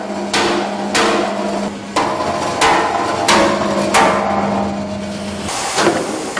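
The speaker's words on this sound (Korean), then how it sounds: "일일이 하나씩 망치로 내리쳐가며 빼낼 수밖에는" Repeated loud metallic hammer strikes knocking screws out of steel during port shipping-container repair, about seven blows at an uneven pace, each ringing briefly over a steady low hum.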